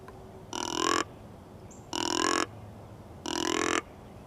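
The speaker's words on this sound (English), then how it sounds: "a little bit louder tone, a little louder, and about 3 more excited types of burps" An MTW Series deer grunt call gives three louder, excited burping grunts, evenly spaced and close, each about half a second long, with no talk.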